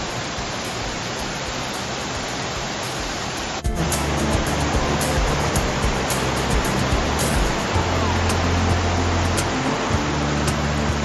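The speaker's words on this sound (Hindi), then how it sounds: "लगभग 300 मीटर पे ये बहुत ही शानदार झरना आपको दिखाई दे रहा है" A steady, dense roar of falling water from Bhalugad Waterfall near Mukteshwar, Nainital, fills the clip, growing slightly heavier partway through and continuing without pause.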